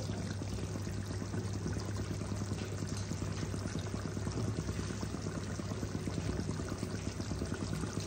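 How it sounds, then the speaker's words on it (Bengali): Tomato puree poured into a pan of chicken butter masala, a steady wet pouring and bubbling noise with a constant low hum running underneath throughout. "টমেটো পিউরিটাকে দিয়ে দেব"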